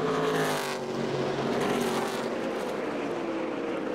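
NASCAR stock cars roar around the short oval at Richmond Raceway, a dense, continuous engine drone with a faintly falling pitch as the pack runs toward the checkered flag, loud and sustained throughout.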